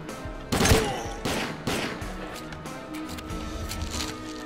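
Gunfire in STALKER: Call of Pripyat, two sharp loud shots in quick succession followed by a third, each decaying into echoing reverb over a faint background hum.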